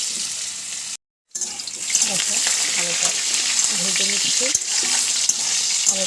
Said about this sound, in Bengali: দেখো আলুটা ভেজে নিচ্ছি